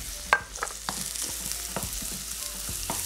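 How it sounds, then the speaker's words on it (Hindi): About a pound and a half of minced meat fries with ginger, garlic and onion, making a soft close sizzle broken by irregular stirring and scraping strokes against the pan. No voices are heard. "और इसको हमने फ्राई कर लेना है बहुत अच्छे से इस अदरक लहसुन और प्याज में।"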